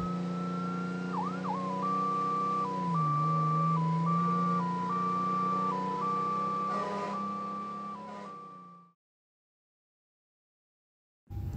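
A police car's siren sounds up close, a steady alternating two-tone wail with a quick whoop at the start over a low engine drone, cutting off abruptly before a few seconds of silence.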